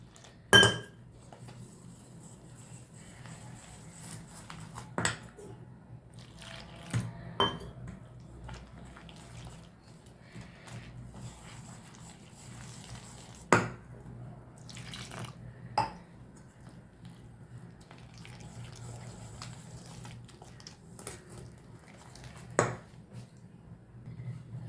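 Water is poured and potato bonda batter is mixed in a bowl, giving soft sloshing and stirring under sporadic clinks of utensils against the vessel, fairly quiet overall.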